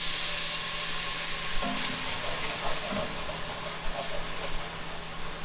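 White wine poured into a hot braising pan for chicken, giving a steady hissing sizzle throughout with a few soft clunks and bubbling pops along the way.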